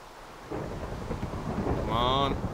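Steady Minecraft rain hisses throughout, with a deep rumble of thunder rolling in partway and swelling toward the end, fairly loud and with no talking.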